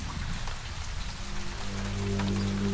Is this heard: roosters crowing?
no